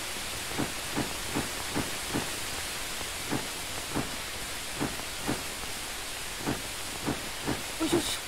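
Water hissing into steam on hot sauna stones in the game The Bathhouse, a series of short rhythmic bursts of hiss over a constant airy wash, evenly spaced and fairly close.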